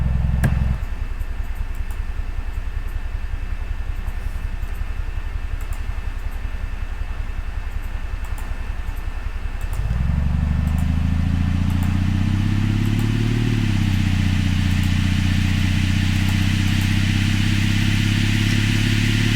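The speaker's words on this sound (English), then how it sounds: "I'm going to go put my vehicle in gear." A simulated vehicle engine in the SimCreator DX driving simulator drones steadily and loudly, idling with a rapid pulse, then rising to a smoother higher hum as it shifts into gear and drives, with a slight pitch climb partway through.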